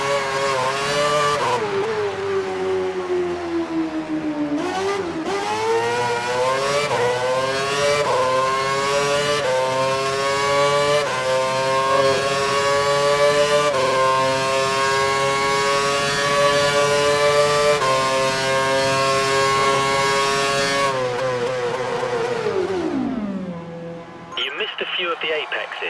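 A Formula 1 car's engine in the F1 2012 game screams through repeated upshifts on a test run, the high pitch climbing in steps for over twenty seconds before winding down as the car slows.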